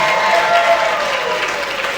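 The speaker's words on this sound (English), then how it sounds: "And an extra round of applause for Gabe for that dance solo." Audience applause for a dance solo at a keynote speech event, a dense, steady wash of clapping from a full room sustained loud throughout.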